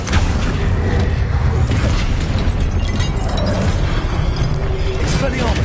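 A summoning spell in Hogwarts Legacy on PS5 rings out amid dense, continuous combat noise: repeated booms, bursts and mechanical clatter layered together over nearly six seconds, loud and busy throughout.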